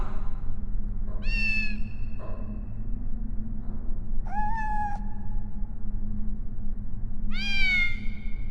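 A kitten in the PS1 game Harry Potter and the Sorcerer's Stone meows three times, bright drawn-out calls spaced a few seconds apart over a steady low game hum, with no talking.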